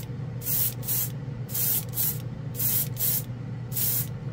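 Master Airbrush Model G79 3-in-1 spraying enamel paint from a compressor set at 20 PSI, giving four pairs of short, loud hissing bursts in a steady rhythm over a constant low compressor hum.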